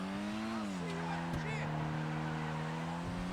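A Dinka Kanjo SJ, a front-wheel-drive car in GTA 5, drones at a steady engine hum with a short shift in pitch early on. The engine runs throughout, moderately loud and mostly on its own.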